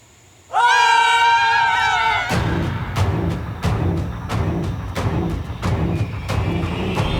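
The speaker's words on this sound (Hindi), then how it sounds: "अभी तुम लोग चिल्लाए थे।" Several people let out a loud, sustained scream together in fright inside a haunted palace, then the scream cuts off into a rapid run of rhythmic thuds and commotion.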